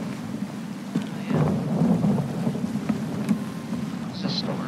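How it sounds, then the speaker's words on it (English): A thunderstorm at sea in the pirate game Sea of Thieves, with steady rain and low rumbling thunder rolling continuously, no voices over it. "It's a storm. Man, this game really is trying to kill me."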